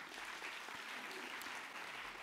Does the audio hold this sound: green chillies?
no